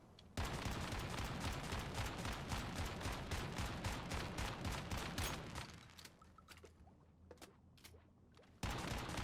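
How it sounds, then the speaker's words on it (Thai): Rapid automatic gunfire from a Pyroclasm weapon build in the survival shooter Once Human, a dense unbroken burst of loud shots that thins into scattered single cracks, then roars back at full rate. "เดี๋ยวผมจะยิงมาร์กก่อน จากนั้นเราจะยิงแบบ สดๆกันเลยครับ"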